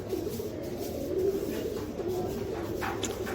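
A pair of Royal Teddy pigeons coo in a low, continuous murmur close by, steady throughout with faint chirps near the end.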